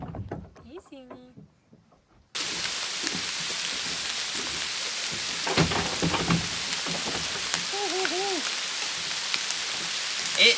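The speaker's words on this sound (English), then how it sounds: "It is raining." Rain falls steadily on an island building site, a constant soft hiss with scattered louder drops striking nearby surfaces, while brief voices and a few short calls come through under it.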